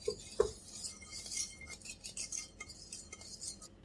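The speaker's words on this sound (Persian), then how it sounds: "با هم مخلوط میکنیم و هم میزنیم" A utensil clinks against a bowl a couple of times, then soft scraping and stirring of dry cupcake ingredients, including baking soda and salt, continues quietly and unevenly.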